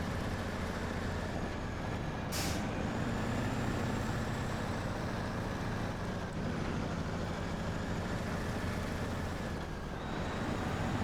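Heavy truck driving in the off-road game SnowRunner, a continuous low engine rumble with a steady drone, constant and fairly loud throughout, with a short sharp noise burst near the start and no talking.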